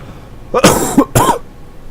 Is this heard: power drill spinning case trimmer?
no